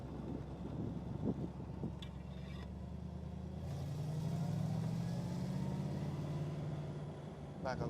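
A 1961 Chevrolet Corvette "Fuelie" on the road, its engine a low steady rumble that rises and holds as it accelerates, mixed with wind noise and a few faint clicks, and no speech.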